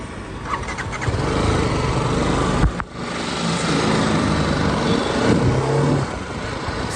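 A 2022 BMW G 310 GS motorcycle in Kyanite Metallic Blue runs steadily up close, a loud continuous engine drone with a brief dip near the three-second mark before the throttle picks back up.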